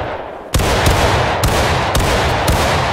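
Muskets fire by file in the Civil War game War of Rights, a loud, sharp crack opening a string of staggered shots about every half second, each ringing out over a constant roar of surrounding gunfire.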